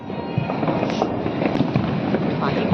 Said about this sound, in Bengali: কত বাজি ফাটছে রে ভাই, আমাদের এখানেও ফাটাচ্ছে রাস্তায়